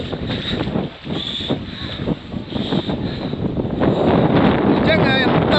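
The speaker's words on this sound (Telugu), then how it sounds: "చూడండి గాలి కూడా స్టార్ట్ అయిపోయింది" Wind blows across the mic on a foggy trek to Koraigad Fort near Lonavala, a steady rushing roar that swells toward the end, with a voice faintly mixed in.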